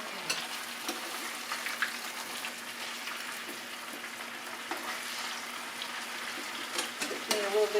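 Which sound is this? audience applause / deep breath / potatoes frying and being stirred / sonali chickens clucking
potatoes frying and being stirred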